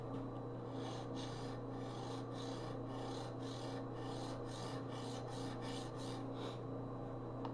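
A Craftsman molding head cutter is honed on an oiled stone, producing a close, rhythmic series of scraping back-and-forth strokes, about a dozen in steady succession.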